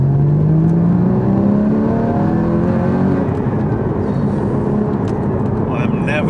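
Porsche 981 GT4 engine accelerating hard, a loud rising mechanical howl with climbing tones as revs build through the gear, heard close from inside the car.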